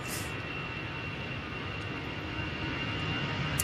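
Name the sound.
EasyJet airliner starting its takeoff roll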